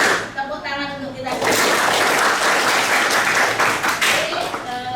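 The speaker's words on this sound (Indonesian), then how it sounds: "Tepuk tangan untuk kita." Applause from a group breaks out after a short stretch of voices, building into a dense, steady clapping that carries on to the end, with talk mixed in.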